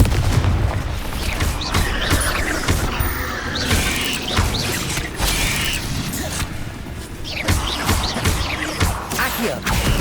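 Confringo blasting spells explode repeatedly in Hogwarts Legacy, a dense, loud, continuous barrage of booms, crackles and mechanical clatter with no pauses.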